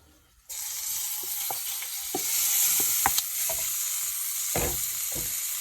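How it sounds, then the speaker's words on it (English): Lamb drops into hot oil and a loud, steady sizzle takes over as it browns, with a few clinks of a utensil stirring the pan. "The oil's been heating for a couple of minutes, so this should sizzle."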